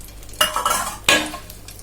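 A spoon scrapes through a pot of sambar rice, folding in fried cashews and a tempering: two quick, close scraping strokes with light clinks between them, heard alone.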